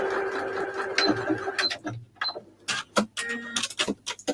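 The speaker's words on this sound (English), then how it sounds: "So I'm basically sewing what you really wouldn't sew" Sewing machine stitching fabric scraps together in short irregular bursts of quick mechanical chatter, close and moderately quiet, separated by brief pauses.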